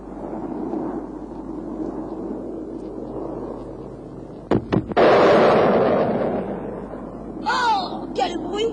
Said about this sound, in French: Peut-être nous pourrons entendre le fameux bang bang quand il va passer le mur du son.